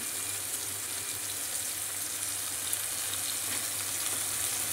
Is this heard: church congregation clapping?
no